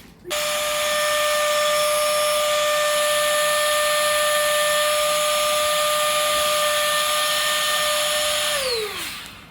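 Electric vacuum machine sucking air out of a storage bag packed with blankets and large clothes, a steady loud whining hum with tonal whistle that runs continuously, then winds down in pitch and cuts off at the end.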